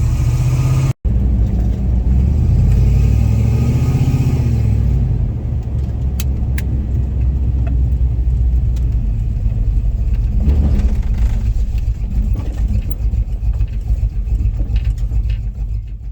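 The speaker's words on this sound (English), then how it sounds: "the old truck, she's running much better" An old hot rod 4x4 truck engine runs steadily at a fast idle around 1900 RPM, a loud, close, even rumble that holds for the whole stretch with slight shifts in tone.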